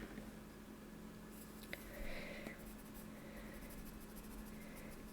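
Brutfurner square colored pencils scratch softly across paper in a faint, close stroking rustle, with no talking.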